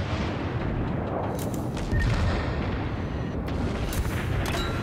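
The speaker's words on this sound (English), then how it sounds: "We're gonna take some of this light cruiser fire." Light cruiser gunfire striking a Japanese battleship in World of Warships, heard as a steady rumbling barrage with muffled booms and sharp impact cracks scattered throughout.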